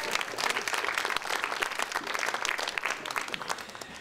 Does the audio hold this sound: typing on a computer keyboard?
no